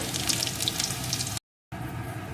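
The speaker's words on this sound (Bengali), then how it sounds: "রসুন কুচি করে দিয়ে দিলাম এখন এটাকে একটু ভেজে নেব" Chopped garlic sizzling in hot oil during a spice tempering for a raw tomato curry, a steady close crackle and hiss that cuts out briefly and then resumes.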